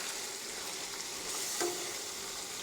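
Meat frying in a home kitchen pan gives a steady close hiss and crackle throughout, with a brief louder sizzle or stir partway through and no talking.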